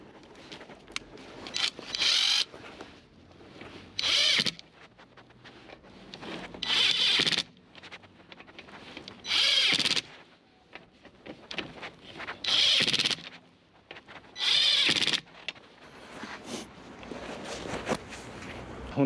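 Parkside cordless impact wrench tightening a nut, firing in several loud hammering bursts of one to two seconds each, separated by quieter handling noises and pauses.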